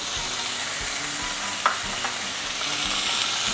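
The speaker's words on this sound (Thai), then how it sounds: "ตั้งกระทะแบบนี้นะครับ แล้วก็ใส่ หมูลงไปเลยนะครับ" Pork sizzles steadily in a hot pan, with a couple of soft stirring scrapes.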